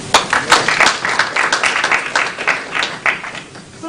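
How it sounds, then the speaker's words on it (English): An audience at a live conservation conference breaking into steady, fairly loud applause, many hands clapping in a dense, continuous patter that rises and dips slightly over a few seconds. "I think we should applaud them"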